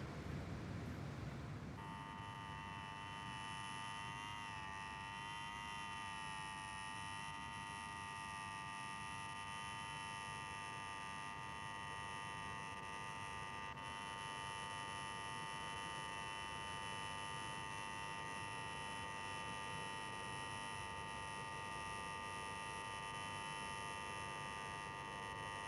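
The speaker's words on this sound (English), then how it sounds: "Take your finger off that bleeding buzzer." An electric buzzer is held down, producing a steady, unbroken harsh tone that drones on at an even level for the whole stretch after a brief noisy start.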